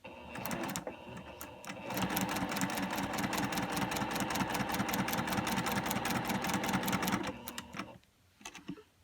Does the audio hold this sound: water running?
no